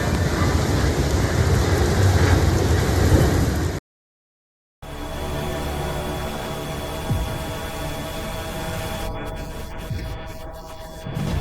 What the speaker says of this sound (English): Ferocious winds and torrential rain are pounding the city.